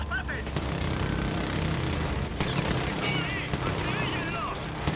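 Gunfire and explosions in the video game Call of Duty Modern Warfare 2 Remastered, a busy, loud mix of rapid shots and booms with voices talking over the battle.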